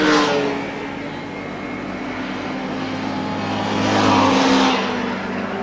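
A racing motorcycle engine drones loudly on the track during a six-hour endurance race, holding a steady high-revving note that swells as the bike nears and passes.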